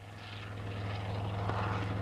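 A helicopter flies nearby in a 1976 Ossetian film, giving a steady, loud rotor-and-engine drone that holds evenly throughout the short stretch.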